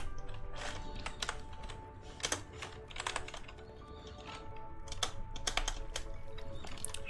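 Continuous typing on a computer keyboard, the microphone sitting close to the keys, giving a steady run of quick, clicky keystrokes with brief pauses, fairly quiet, with no talk over it.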